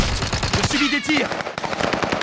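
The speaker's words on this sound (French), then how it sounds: "Des tirs." Gunfire in the video game Call of Duty Warzone comes as rapid, loud automatic bursts that crackle close and constant, with brief clattering effects in between.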